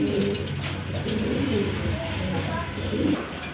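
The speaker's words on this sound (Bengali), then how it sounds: "আর এখানে কিন্তু আরেক জোড়া কবুতর আছে" Rajgolla pigeons coo in low, repeated murmurs from nearby, a steady layered cooing running throughout with a faint murmur of talk in the background.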